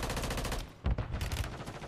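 Rapid automatic gunfire from the video game Call of Duty, loud and close, a sustained burst that breaks off briefly and then resumes with heavier, booming shots.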